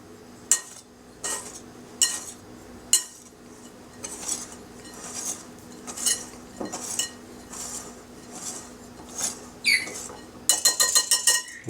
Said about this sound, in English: And we're just going to whisk this up a little bit,